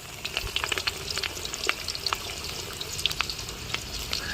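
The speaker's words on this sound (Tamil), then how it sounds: "சூடாகிட்டு எண்ணெய்க்குள்ள ஃபஸ்ட்டு போட்டு பொரிக்கும்." Close, continuous sizzling of watermelon popcorn frying in hot oil, with dense crackling and popping throughout and no talk.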